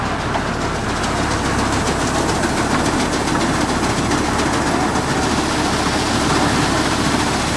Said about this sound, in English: I don't think this auger is going to take it that fast.